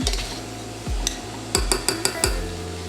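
Ingredients for a coconut lentil curry are mixed with salt in a pot, with a utensil scraping and clinking against the metal in a run of sharp, close taps, several in quick succession toward the end.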